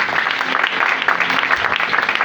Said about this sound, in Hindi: ऐसे यीशु के लिए जोरदार तालियां